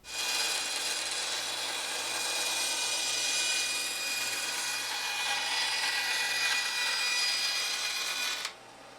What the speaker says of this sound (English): So let's take this over to the bandsaw.